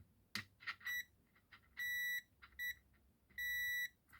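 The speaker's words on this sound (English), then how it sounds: "there's a beep" A continuity tester checking a faulty audio/video/power cable beeps in short and longer bursts, a clear high-pitched tone switching on and off against near silence, with a few faint clicks.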